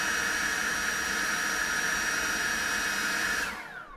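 An Ingco 20V cordless blower with a variable speed trigger runs at max speed: a loud, steady rushing roar with a high whine, then it winds down abruptly near the end.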